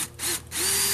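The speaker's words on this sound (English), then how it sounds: "when you're dealing with a hole saw in plastic, be it a plastic 5-gallon bucket" A power drill with a hole saw whines in two short bursts, its pitch rising as it spins up, grinding through a plastic 5-gallon bucket, loud and close.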